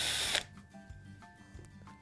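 A cordless drill with worn brushes that is sparking inside whirs in a short, loud burst, then stops, leaving faint mechanical clicks and ticks up close.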